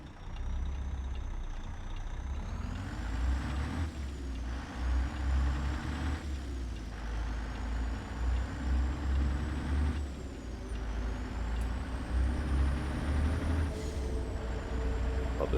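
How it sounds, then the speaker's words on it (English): A truck engine drones steadily in American Truck Simulator while driving Interstate 70, a continuous low rumble with a faint whining tone above it, broken by several periodic hissing bursts like air brakes. "Love the sound of this truck."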